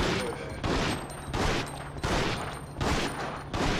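Rapid bursts of gunfire from Resident Evil Outbreak on PS2, repeating in a steady rhythm of loud shots that fill the whole clip, with a player's voice faintly underneath.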